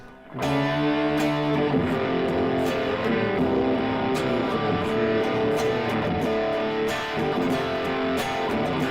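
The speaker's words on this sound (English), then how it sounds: "Grindy, grungy, nice crunchy distortion sound." Thick, crunchy distorted electric guitar plays chugging chords with sharp rhythmic attacks, loud and continuous, no voices.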